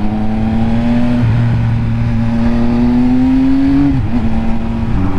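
A Triumph Speed Triple RS motorcycle with quick shifter and auto blip holds a loud, close engine drone, pitch climbing steadily, then a quick shift and blipped dip near the end, alone.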